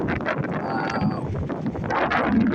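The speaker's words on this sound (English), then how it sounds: "The east wind is coming. It's dangerous." Strong east wind buffets the microphone in stormy Oregon weather, a loud continuous gusting roar.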